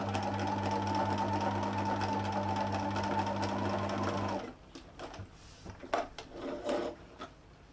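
A domestic sewing machine stitches cotton fabric for a small beach hut pouch, running steadily and loud for about four seconds, then stopping, followed by quiet handling clicks and fabric rustles.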